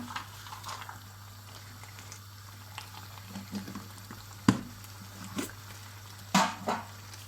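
Quiet, steady bubbling of water boiling in a pot of capped glass jars of preserved eggplant, with a few sharper knocks and rattles of jars clinking against each other.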